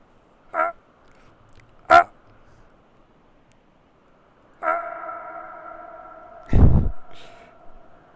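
A short sound effect drenched in heavy reverb: several brief tonal blips, then a sustained harmonic tone with a long echoing tail, ending in a loud low thump, heard alone.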